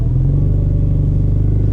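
A 2018 Dodge Demon's engine holds a steady, loud, rumbling idle-to-rev drone while staged on the trans brake, a continuous low growl with no speech over it.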